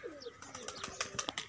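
Pigeons released from their coop coo nearby over light fluttering, with a few soft chirps and short flaps of wings close to the microphone.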